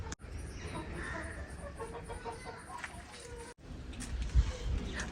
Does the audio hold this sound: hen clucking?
yes